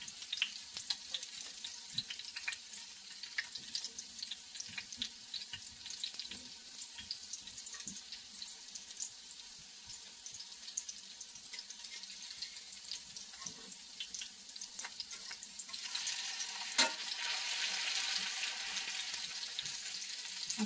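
Mackerel fritters fry in a pan of oil, giving a soft, even hiss and patter of bubbling that swells a little louder toward the end, with no talking.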